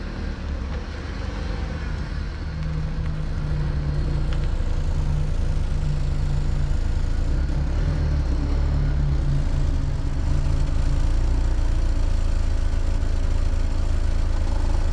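BMW E36 coupe being driven and pulling over, a continuous low engine drone with road rumble heard from inside the car, steady and fairly loud.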